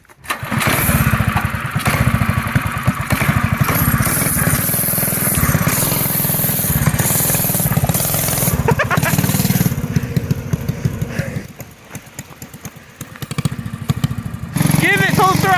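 A homemade gas scooter engine revving loudly nearby, a rapid buzzing two-stroke-like drone that holds steady, dips briefly, then surges again, with voices talking over it.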